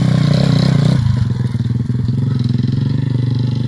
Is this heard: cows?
no